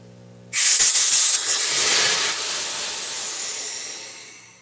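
Compressed air bursts loudly from a pressure pot holding a cast Alumilite blank, a sudden strong hiss that starts abruptly and stays steady, slowly easing off over several seconds with no voices.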